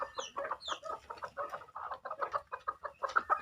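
A hen clucks repeatedly in short, rhythmic bursts, fairly close and steady, with no one talking.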